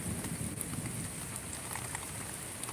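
Heavy rain pours down steadily during a thunderstorm with lightning, making a dense, even hiss of drops on surfaces. The sound is constant and fairly soft, with no voices.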